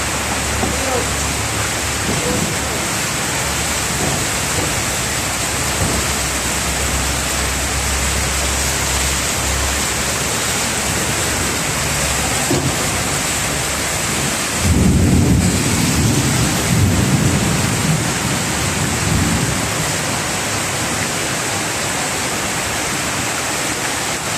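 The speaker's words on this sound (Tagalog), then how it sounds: "Grabe ulan eh." Heavy rain roars steadily throughout, and partway through a deep rumble of thunder rolls in and fades.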